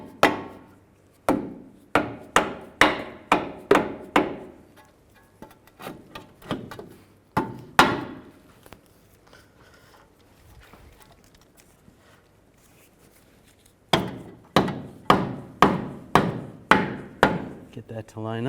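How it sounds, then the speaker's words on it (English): Repeated close, loud dead blow hammer strikes drive a front lower control arm into place on a 2011–2015 Chevy Cruze, arriving in quick bursts of blows with a quieter stretch in the middle. "Just take a dead blow hammer,"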